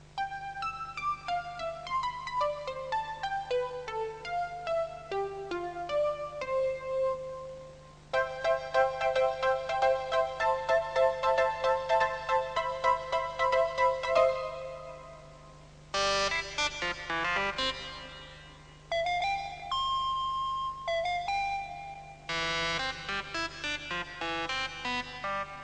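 A synthesizer plays the same simple tune several times with changing tone colours, shifting from bright beeping notes to denser bell-like and buzzy timbres over a low steady hum, with short gaps between passages.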